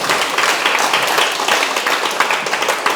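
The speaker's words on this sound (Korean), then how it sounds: "박수 한번 쳐주세요" Audience applause at a Buddhist question-and-answer talk, a dense, steady wash of clapping from many hands that carries on for the full three seconds at an even level.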